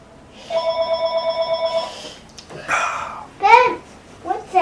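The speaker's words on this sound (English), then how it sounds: "It's a phone." A telephone gives a fast, trilling ring that pulses steadily for about a second and a half. Voices then speak, loud and close, over the rest.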